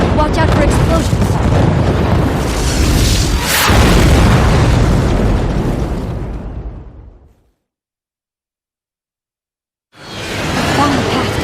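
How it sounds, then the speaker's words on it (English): Loud booming explosions burst and roar in the Raiden V shoot-'em-up game for several seconds, fading into a short silence before another rumbling blast swells back in. "Watch out for explosions."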